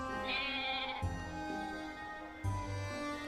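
A goat bleats in the game Professor Layton vs Phoenix Wright, a close, wavering cry repeated in about three pulses over a few seconds.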